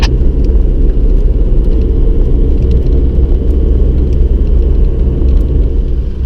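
Steady, loud low-frequency road rumble and engine drone from inside a car driving along on a morning road trip toward Rocket Lake campground, continuous throughout with no talking.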